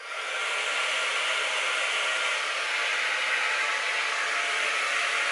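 Hair dryer fitted with a diffuser runs on medium speed, warm shifting to cool, a steady loud close whoosh of air holding unchanged throughout with no talk.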